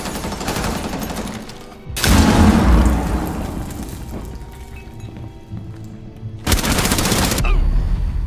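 Gunfire shooting through a wall in Rainbow Six Siege, with loud sustained automatic bursts at the start, a heavier burst around two seconds that decays into a rattling tail, and another sharp burst near the end.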